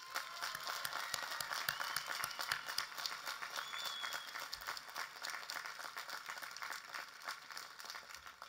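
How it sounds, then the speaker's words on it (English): An audience applauds the graduating class at the 2024 Elmira College commencement, a broad, steady wash of clapping from many hands that holds strong through the whole stretch and eases slightly toward the end. "let us applaud the unprecedented class of 2024."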